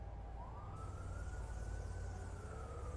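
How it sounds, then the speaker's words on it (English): A police siren in the video game inFAMOUS Second Son wails steadily in the distance, its pitch sweeping up and holding, over a constant low engine-like hum. "I'm hearing sirens, man."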